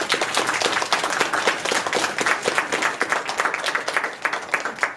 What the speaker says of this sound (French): On peut les applaudir quand même.